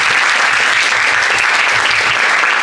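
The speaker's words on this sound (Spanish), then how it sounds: "Un aplauso para María Elena." Audience applause at a panel event on contemporary Latin American cinema, dense and steady from start to finish with no talk over it.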